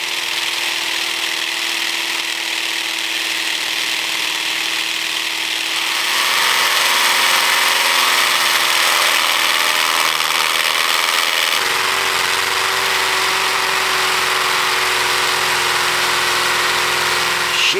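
A power drill whines continuously, its motor pitch shifting partway through as it bites into material, loud and sustained without pauses.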